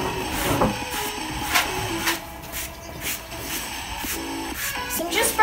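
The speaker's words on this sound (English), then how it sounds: "I'm just brushing Remco so that he looks smart for his ride and to get all the mud off of him" Brushes sweep over a muddy horse's coat in repeated strokes, close, soft scratchy swishes in an irregular rhythm.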